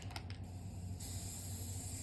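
A few faint clicks, then a soft, steady hiss of spray adhesive basting a quilt starts and continues to the end.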